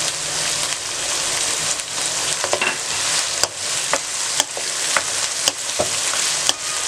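Garlic and green chillies frying and being stirred in a hot pan for a chicken chranda sabzi, with a steady close sizzle and repeated sharp scrapes and clicks of the spoon against the pan, and no talking.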